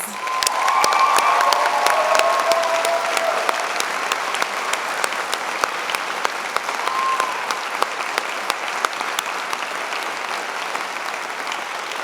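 Sustained applause from a convocation audience honoring 2019 graduates at a spring afternoon ceremony, steady and dense throughout with scattered sharp claps and a faint whistle or cheer early on.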